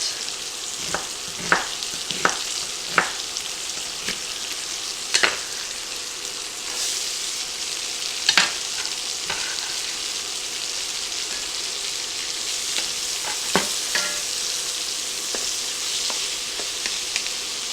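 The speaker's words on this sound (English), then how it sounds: "The sizzle is going to help brown these vegetables and give them a flavor." Peppers and onions sizzle steadily as they brown in a pot for a beefy nacho soup, a continuous close frying hiss broken by occasional sharp pops and stirring clicks, with no talking.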